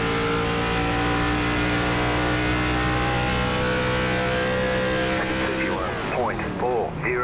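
Race car engines in an ARCA stock-car racing video game at Nashville Superspeedway drone loud and steady at high revs, then shift pitch sharply near the end as cars sweep past close by.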